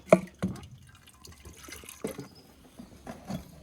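Liquid draining off a gauze filter that has been pulled out, heard as quiet, irregular drips and small splashes close by, with a few sharper drops among softer trickles.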